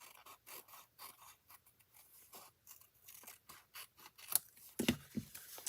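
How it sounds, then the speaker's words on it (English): Scissors trimming paper for a handmade card, quiet snipping and rustling in short repeated cuts close by, with a couple of louder crisp snips near the end. "I'm just going to trim this around here."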